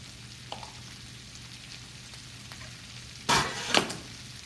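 Breakfast hash frying in a pan, a soft steady sizzle throughout, broken near the end by two louder bursts of scraping and stirring from the bottom of the pan.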